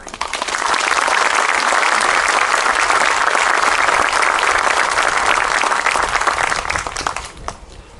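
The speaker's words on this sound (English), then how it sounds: "So I wanted to have you all please recognize them with an applause." Sustained applause from an outdoor Memorial Day observance crowd in Santa Maria, California, a loud dense clatter that swells quickly, holds steady for several seconds, then tapers off at the end.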